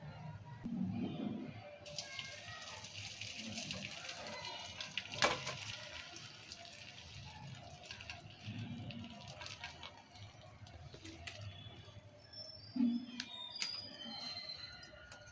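Curdled milk for kalakand is poured out and drained, a steady watery rush running for most of the stretch over a soft background, with a few brief clinks near the end.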